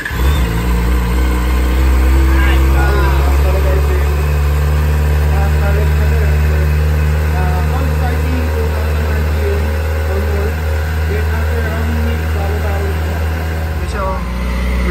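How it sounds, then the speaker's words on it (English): A 2023 Kawasaki ZX4RR motorcycle engine runs steadily at idle after its first start, a loud continuous mid-pitched drone with slight revving swells, while people talk nearby over it. "First start from 2023 Kawasaki ZX4RR."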